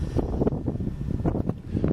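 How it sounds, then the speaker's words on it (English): Wind gusting outdoors at an RC car test run, buffeting the microphone in soft, uneven low rumbles that swell and dip throughout, with no talking. "Well, we got quite a bit of wind, unfortunately."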